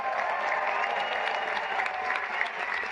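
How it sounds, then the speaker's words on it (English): Sustained audience applause fills a formal charity dinner hall for First Lady Melania Trump, a dense, steady wash of many hands clapping from start to finish with a faint crowd murmur underneath. "Can we have a round of applause for First Lady Melania Trump?"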